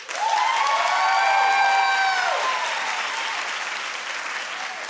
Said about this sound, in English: Clap if you like him as a solo act.